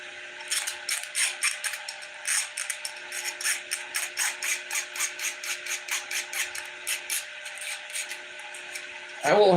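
Tin snips cut spinner blades out of metal in a rhythmic series of short, crisp snips, close and moderately loud, repeating steadily with a faint hum underneath and a brief louder knock at the end.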